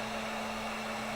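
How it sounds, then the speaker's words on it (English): A heat gun runs close by for jig molding, a loud steady blowing hiss with a constant hum tone and no pauses. "Heat gun."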